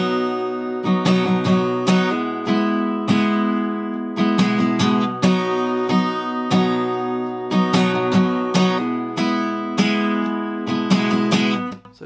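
Acoustic guitar strummed in a lively down-up rhythm, bright chords repeating in quick, even strokes, close and clear, with no voices.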